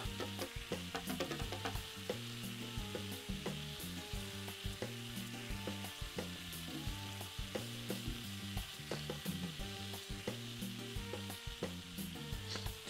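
Food sizzles and fries in a pan in the game Taskmaster VR. The sizzle is a steady, continuous hiss that runs alone for the whole stretch, with no one talking.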